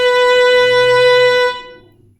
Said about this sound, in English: So fast and narrow might sound something like this.